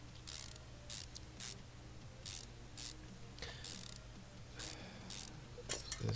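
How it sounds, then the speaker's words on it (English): Bolts being fitted back into a car's clutch and flywheel assembly in the Car Mechanic Simulator 2015 video game: a quick series of ratcheting mechanical bursts, evenly spaced and moderately loud, over a steady low hum. "Put the bolts back in."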